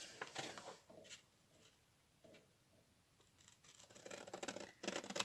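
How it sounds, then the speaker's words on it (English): Scissors snip through a junk journal page in several close, crisp bursts of cutting with short pauses between them, quiet and without talk. "I have to cut my middle page here"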